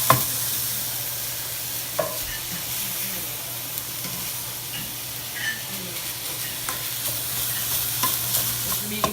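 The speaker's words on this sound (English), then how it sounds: "Make sure to turn over the beef to brown it entirely. Keep breaking up the beef as you cook." Ground beef browning in a pan for spaghetti, a constant close sizzle and hiss with periodic scraping knocks as the meat is stirred and broken up.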